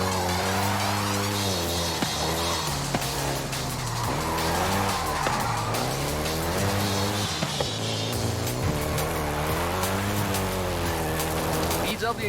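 A Volkswagen Golf GTI in the racing game Forza Horizon 5, its engine note rising and falling steadily with tyre squeal and skidding throughout, played loud and continuous with a voice faintly underneath.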